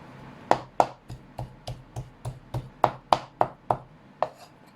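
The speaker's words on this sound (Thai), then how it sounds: "อันดับแรกหนูก็จะเอาหมูมาสับนะคะ" Knife chopping pork finely on a board, a steady series of sharp, evenly spaced thuds with crisp attacks, close and fairly loud, with no talking.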